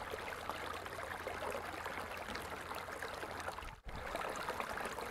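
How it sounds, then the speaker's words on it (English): A looping flowing-water ambience in the video game Caligo, a steady trickling stream hiss that cuts out abruptly for a split second and then restarts at the same level, with no voices. "I love how the water stops and then it redoes the water sound."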